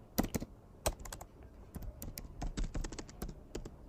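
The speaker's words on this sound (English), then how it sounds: "So I'm going to click on T on my keyboard" Someone types on a computer keyboard while working in Figma, irregular clusters of crisp, close key clicks with brief pauses between bursts, alone and fairly quiet.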